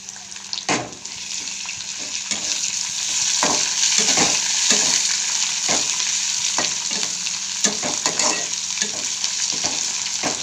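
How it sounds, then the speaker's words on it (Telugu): Onions, green and dried chillies and ginger frying with curry leaves for a raw potato fry curry, a bright continuous sizzle with repeated clicks and scrapes of stirring, close and fairly loud. "ఉల్లిపాయలు, పచ్చిమిరపకాయలు, ఉల్లిపాయలు, తెల్ల ఉల్లిపాయలు వేగుతున్నాయి, ఎండుమిరపకాయలు, అల్లం వేసుకున్నాను"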